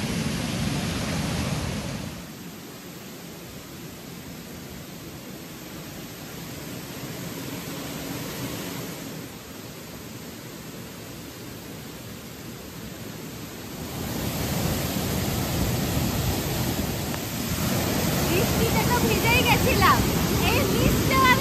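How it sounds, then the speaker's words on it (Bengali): A waterfall in Mizoram, India, seen from behind, with water pouring over rocks: a steady, close, broadband rushing roar that fills the whole stretch, swelling louder toward the end, with someone talking over it. "এই হচ্ছে সেই ওয়াটারফল যেটা পিছনে যাওয়া যায়"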